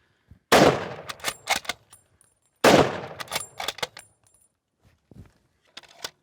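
A bolt-action rifle fires two loud, sharp shots a couple of seconds apart at a range, each followed by the metallic clatter of the bolt being worked, with faint handling clicks after.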